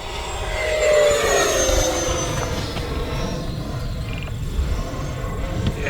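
An E-Flite Viper 90mm RC jet flies a knife-edge pass, its ducted-fan whine loud and sliding downward as it sweeps by, then fading into a steady rushing drone with wind noise outdoors.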